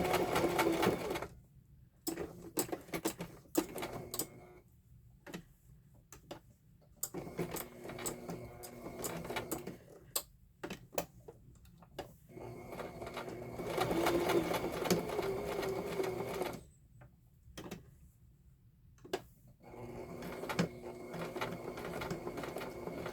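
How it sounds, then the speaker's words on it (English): A sewing machine making uneven stitches stitches in bursts, its rapid mechanical whir starting and stopping repeatedly, close and moderately loud. "My sewing machine's not making very even stitches for some reason."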